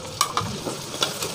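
Garlic, crushed ginger and chopped green chilli fry in a pan for homemade veg patty filling, a soft sizzle broken by several quick stirring knocks and scrapes.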